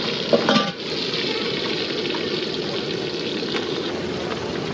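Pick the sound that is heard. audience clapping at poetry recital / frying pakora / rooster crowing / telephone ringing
frying pakora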